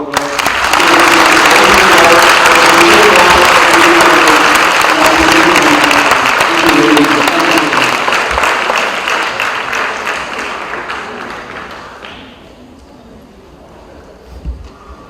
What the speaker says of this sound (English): I want all of you to give them a round of applause